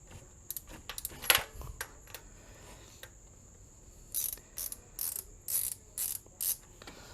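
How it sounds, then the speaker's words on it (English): Hand ratchet clicking in bursts while backing out the crank bolt on a 2005 Dodge Magnum engine during timing belt replacement; a scattering of clicks early on, then a steady series of short ratchet strokes. "I need to back this crank bolt out."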